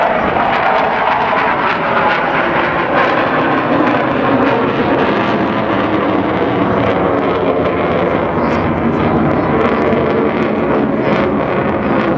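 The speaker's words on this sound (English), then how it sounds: "That puppy really goes, and you can see the afterburners coming on." A Saab J 35 Draken jet fighter with afterburners lit at a beach air show in Scotland, producing a loud, continuous roaring blast that stays strong and steady throughout.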